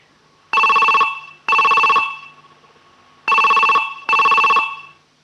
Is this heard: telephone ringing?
yes